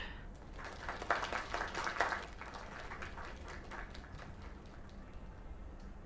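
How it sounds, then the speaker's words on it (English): A small crowd applauds in the video game LAKE, a quick burst of clapping that peaks early and then thins into scattered claps, with faint talk mixed in. "Another round of applause."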